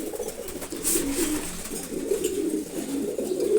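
Repeated soft, throaty cooing of a pair of racing pigeons up close, male and female, rising and falling in a steady rolling rhythm with no talking.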